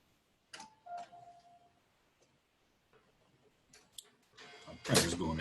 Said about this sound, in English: My printer's going insane.